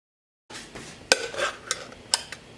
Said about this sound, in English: Go ahead and add my kidney beans.